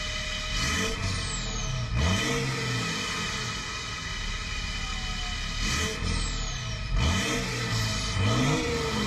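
A BMW X5 35d diesel engine, fitted with a new catalytic converter, revs up twice to a rising whine, each time settling back to a steady drone. The sound is loud and continuous and nobody talks.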